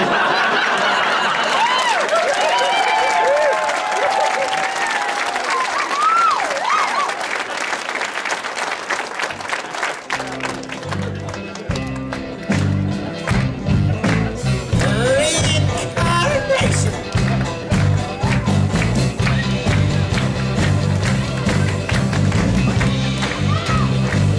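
A crowd at the Bethel's Got Talent 2015 show applauds and chuckles after a performer finishes, the clapping mixed with scattered laughter while music starts up under the cheering midway through.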